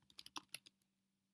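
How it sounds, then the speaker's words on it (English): Typing on a computer keyboard while entering a street name for a sign design, a quick burst of about eight close, crisp key clicks in an uneven rhythm, then quiet. "let's do some typing"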